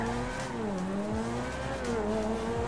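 A Ferrari 458 in GTA 5 drives steadily, its engine drone rising and falling with shifting pitch, a brief tire squeal mixed in, loud and continuous with no talking.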